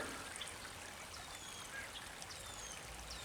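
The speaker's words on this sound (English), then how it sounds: "little water movement going on right there" A creek flows and trickles along a weedy, mossy edge, a soft continuous wash of moving water with faint high chirps above it and no talking.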